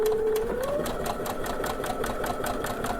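Baby Lock Brilliant sewing machine back stitching, a steady rapid needle chatter running continuously at close range and fairly loud, with a brief whirring rise near the start.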